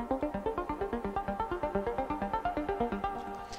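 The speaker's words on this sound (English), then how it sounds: "Use a plug sound to create an arp like this." Plucked synth arpeggio for an electro house track, a steady fast run of short bright notes with even decays, loud and alone with no voices.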